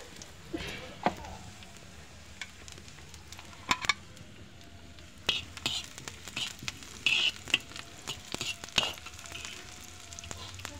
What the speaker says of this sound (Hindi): छौंकते हैं।